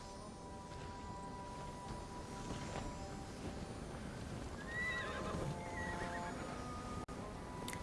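A horse neighs in Immortals Fenyx Rising, a fairly faint whinny rising over a steady game ambience with no talking.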